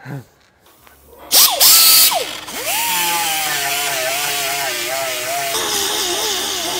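A power sander or rotary tool works over a cooled plastic weld in a garage, its motor whining up and settling into a steady high drone with a brief louder burst near the start.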